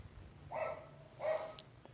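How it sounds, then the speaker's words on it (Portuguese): A neighbor's dog barks twice from a distance, faint muffled woofs spaced about half a second apart, over quiet room noise with no talk. "o cachorro do meu vizinho latindo"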